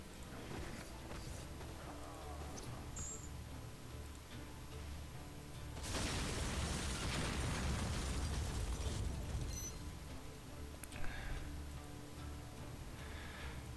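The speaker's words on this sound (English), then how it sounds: "So the whole thing will explode." A video game explosion in Van Helsing: a sustained, loud broadband roar swells up and holds for several seconds over steady game ambience, then settles back, with a sharp pop near the end.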